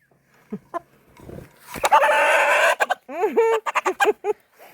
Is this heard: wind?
no